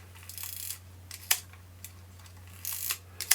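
A film camera from a mixed job lot is wound on with a faulty, sticky shutter that fails to cock, giving a few short, close mechanical clicks and ratcheting scrapes in bursts over a steady low hum, with no talk.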